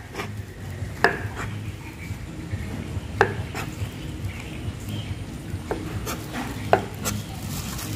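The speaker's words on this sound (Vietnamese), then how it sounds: "Bây giờ mình sắc nhuyễn ra." A knife finely chops boiled goat liver on a board, sending scattered sharp taps at an irregular pace over steady low background noise.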